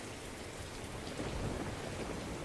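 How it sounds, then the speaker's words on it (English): Heavy rain beats steadily against a window pane, with low rumbles of thunder rolling under the constant downpour. No voices are heard. "The rain was falling heavily on the window pane."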